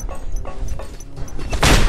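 A burst of loud, booming explosion noise from Just Cause 2, rumbling and crackling, swelling to a heavier blast near the end.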